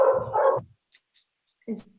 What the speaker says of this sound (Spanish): hay un perro por ahí